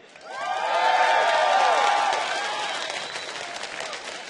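Crowd applause and cheering for SK Gaming at an esports match, swelling quickly into a loud, sustained roar with whistles and shouts, then easing slightly but continuing throughout.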